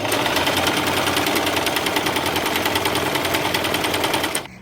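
Sewing machine stitching the hem of a hand-dyed skirt, a steady rapid mechanical whir with fast regular needle pulses, close and loud alone for about four seconds before stopping abruptly.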